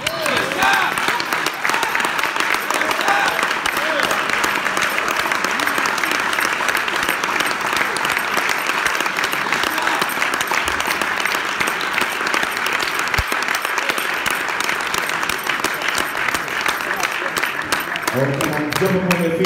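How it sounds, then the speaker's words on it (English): A crowd at a motivational speaking event applauds loudly and continuously for nearly twenty seconds, a dense, even roar of clapping while a voice keeps talking over it. "Come on, keep that applause going"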